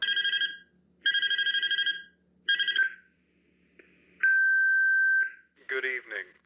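Phone ringing in a FNAF fangame, three clear electronic ring bursts with pauses between, then a steady beep tone and a short burst of voice at the end.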